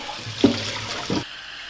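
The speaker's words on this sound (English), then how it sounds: "And then we just fill it up with cold water" Cold tap water runs into a good-sized saucepan of rinsed potatoes, a steady close splashing rush with two brief louder gushes before it stops and leaves quiet.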